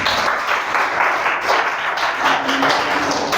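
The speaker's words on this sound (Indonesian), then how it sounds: "tepuk tangan" Students in a math classroom clap together in a brief burst of steady, fairly loud applause that fills the room.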